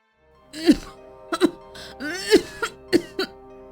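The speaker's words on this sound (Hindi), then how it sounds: "उसकी पत्नी धनिया अभी भी खांस रही थी।" A woman coughing in a close, repeated fit of about five harsh coughs with strained breaths between them.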